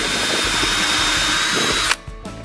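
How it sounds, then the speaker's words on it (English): A power drill fitted with a countersink bit bores into a wooden shelf in a continuous, loud, close whine for about two seconds, then stops abruptly and leaves brief fading clatter. "That is called a countersink."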